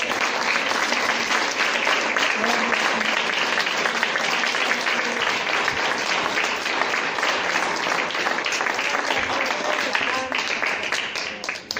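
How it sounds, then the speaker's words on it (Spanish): A church congregation claps and applauds steadily at a Spanish-language service, a dense, loud wash of hands lasting the whole stretch and trailing off at the end, with voices mixed in. "Démosle aplauso al Señor en esta mañana."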